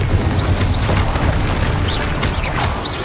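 Confringo explosion spells cast in Hogwarts Legacy, a loud, dense roar of blasts and crackling magic layered with thin whistling tones, sustained without pause.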